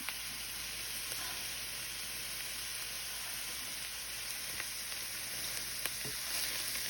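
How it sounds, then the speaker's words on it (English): Peppers and onions cook on high heat in a pan for a chicken bog, producing a constant soft hissing sizzle with faint occasional ticks, fairly quiet and without voices. "I'm cooking the peppers and onions on high."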